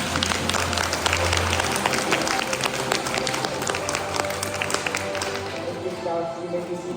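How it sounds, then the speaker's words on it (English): An audience at an Eagle Scout court of honor applauds new scouts: a dense, sustained clapping from a crowd in an indoor hall, loud and steady before gradually thinning out. "Let's give a big round of applause to our new scouts."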